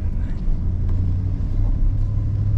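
An old pickup truck with 190,000 miles on it drives along, its engine and road noise forming a steady, heavy low rumble inside the cab, with no speech.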